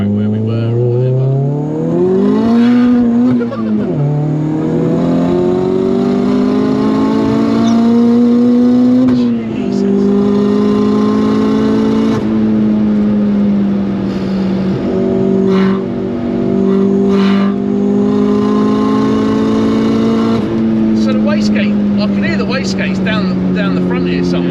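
A 412bhp VW Lupo GTI 1.8T with a screamer pipe exhaust accelerates hard through the gears, a loud, droning engine note that climbs and drops with each shift, heard from inside the car while people talk.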